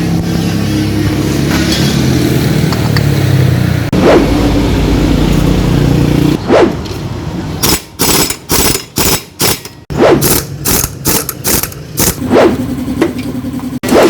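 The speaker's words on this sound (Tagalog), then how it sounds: "Pag kina-throttle mo siya, talagang malakas yung nginig niya." A motorcycle with a transmission dragging fault idles roughly, then revs in a string of sharp throttle blips separated by short gaps, loud and close with a mechanical rattle.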